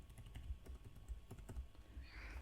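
Steady clicking of a computer keyboard as code is written, light irregular keystrokes close by with no talking.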